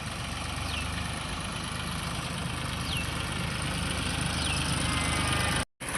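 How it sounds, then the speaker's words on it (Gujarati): A tractor engine idles at home with a steady, low, continuous rumble at moderate loudness, with no talk, before cutting out briefly at the end. "ટ્રેક્ટર આવી ગયું છે ઘેર"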